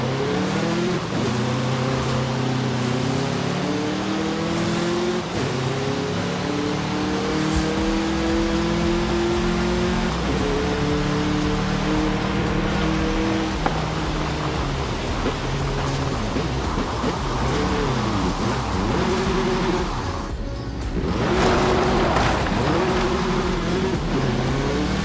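A 1963 Volkswagen Beetle, the Vocho, drives in Forza Horizon 5 with a steady buzzing engine note that rises and falls as it shifts through gears, plus a rush of wind and road noise, with no talk.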